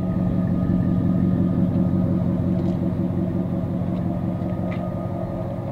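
A 2006 Dodge Dakota SLT 4x4 with the Magnum 4.7 liter V8 and custom dual exhaust idles steadily, a low, even rumble close by with no voices.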